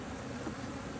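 Honey bees buzz in a dense, continuous hum at an open hive being split with virgin queens, close and unbroken.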